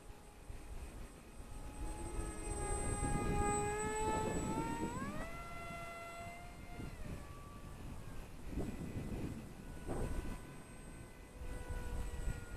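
A small F22 micro RC parkjet flies overhead outdoors, its high electric motor whine rising and shifting in pitch as it passes and turns, steady and moderately loud throughout with no talking.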